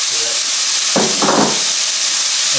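Chicken fried rice sizzling in a hot pan, a steady frying hiss that swells into two brief louder bursts of crackle in the middle before settling back to a constant sizzle.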